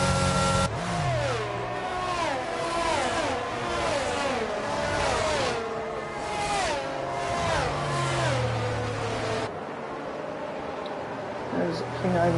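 Aston Martin Formula One cars race at Imola in a video game, with high engine whines rising and dropping through gear changes as they pass close by, while a commentator talks over them.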